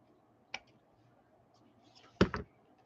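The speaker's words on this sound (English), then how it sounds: "I take out like a 1/2 circle, and then just cut this part off." Scissors snip through paper for a craft of small file cards with tabs, giving a single close, sharp cut followed after a pause by a quick double snip in a quiet room.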